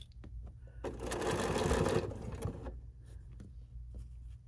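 A sewing machine stitches fabric in one short run of about a second, a close whirring hum that stops as quietly as it started.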